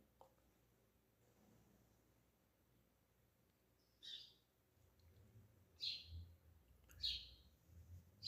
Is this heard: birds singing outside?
yes